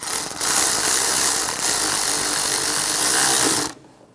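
Hand ratchet tightening a bolt on an underbody bracket of a 1996-2002 Toyota 4Runner, a close, steady run of rapid clicking that stops abruptly near the end.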